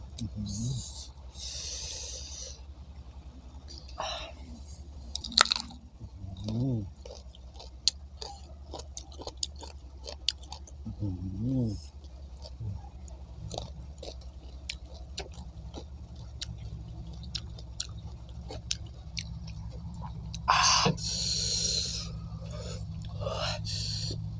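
Someone bites and chews crunchy, tart unripe mango in several separate crisp bursts with quiet gaps between them. Soft whispery voices and light background noise come in between the bites.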